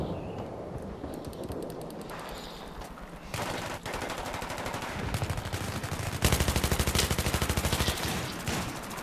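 Rapid gunfire from the Battlefield 3 video game, with bursts of automatic weapon fire that build into dense, loud, continuous machine-gun rattling in the second half, with no talk over it.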